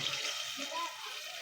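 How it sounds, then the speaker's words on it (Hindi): About a glass of water poured into well-fried masala in a pan, for a besan dish: a steady broad hiss and sizzle that holds through, close and moderately loud, with no talk. "1 गिलास पानी ऐड कर देंगे"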